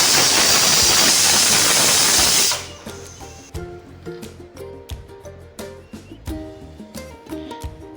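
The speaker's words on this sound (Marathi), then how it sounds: "शेंगांचे मिश्रण आणि तांदूळ कुकरला लावून पाच ते सहा शिट्ट्या होऊ दिल्या" A pressure cooker cooking rice with drumstick mixture releases a loud, sustained steam whistle hiss for a couple of seconds, then cuts off, leaving quieter kitchen clatter and rhythmic knocks.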